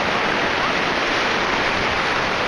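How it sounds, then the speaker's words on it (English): Ocean waves at Santa Rosa Beach, with a steady, loud roar of surf washing continuously with no breaks, close by and with no voices over it. "Big old waves."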